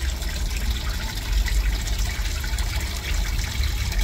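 Water pouring steadily into a fish pond, a continuous splashing trickle close by and fairly loud, with no talk over it.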